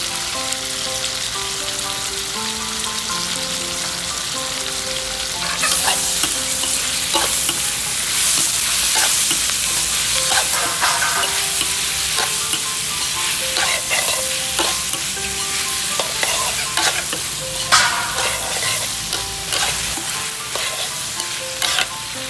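Squid stir-fried with oyster sauce and black pepper in a hot pan: a loud, continuous sizzle and frying hiss with repeated scrapes and clinks from stirring, heard close up.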